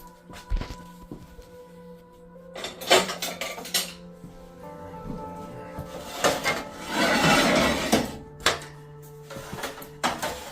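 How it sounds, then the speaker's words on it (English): A chainmail scraper scrubbing a hot pan on a stove top, giving bursts of metallic scraping and clattering, with a longer loud scrub near the end and quieter gaps between strokes. "use a chainmail scraper, get her clean, and then re-season it while it's still hot"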